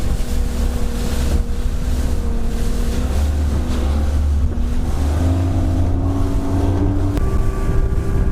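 A Johnson 200 hp outboard motorboat runs steadily at about 4,000 RPM, a loud continuous engine drone with shifting harmonic tones, mixed with wind buffeting and water noise and no voices.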